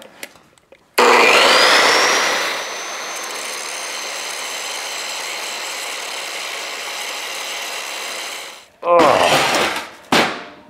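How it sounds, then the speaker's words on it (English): A large grinder runs loud and steady for several seconds while steel wedges are fabricated for a four-way log splitter, its whine rising as it spins up, then cutting out before two short bursts of grinding. "That's a big grinder."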